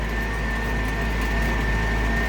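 Steady droning engine of a DT-75 crawler tractor heard from inside the cab, a continuous low rumble with a faint high whine, constant and fairly loud throughout with no voices.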